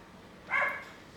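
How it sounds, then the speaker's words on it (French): A single short dog bark, fairly close and clear, rising out of a quiet room tone for about a third of a second. "les chiens vont aboyer"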